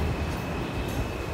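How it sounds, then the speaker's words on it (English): A New York City Q subway train departing Coney Island station on a rainy day rumbles steadily nearby with a broad roar and faint rattling, no voices over it. "there's a Q train leaving right now"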